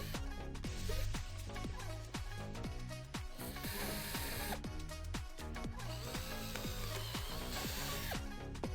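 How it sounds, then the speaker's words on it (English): A power drill bores into scrap wood for a DIY garden bench, with a steady whirring grind and repeated sharp knocks and surges across the clip, close and fairly quiet. "get our drill. We're gonna make a hole like right here."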